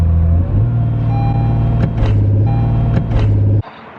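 A new Acura NSX launching hard in launch mode gives a loud, deep engine roar with quick upshift breaks, revving rising in steps before cutting off abruptly to a low idle.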